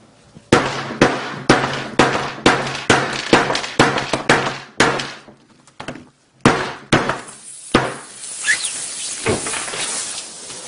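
A hammer strikes the glass of a Samsung Galaxy S5 smartphone again and again in a quick, regular rhythm of sharp cracks, then crunching and shattering as the blows turn ragged.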